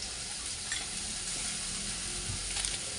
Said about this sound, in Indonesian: Nah kita tumis sampai layu.